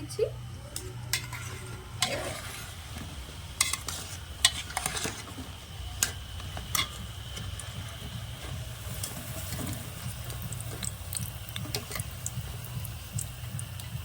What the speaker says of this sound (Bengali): মিষ্টিগুলো খুব সুন্দর করে ভাজা হয়ে গেছে